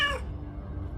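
A cat gives a single short, clear meow at the very start, which then fades into a low background hum.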